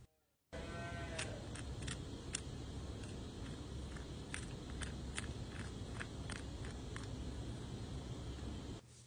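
A hoof knife trims a cow's hoof packed with rocks, giving a steady close scraping with sharp clicks and ticks as the blade catches stones, running continuously for about eight seconds without talk.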